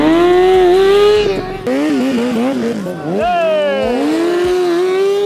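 Loud motorcycle exhaust from a KTM 790 Duke or Kawasaki Ninja ZX-6R at a moto drift battle, engine notes rising and falling through revs, with excited voices cheering over it.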